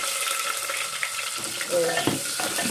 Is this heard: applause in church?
no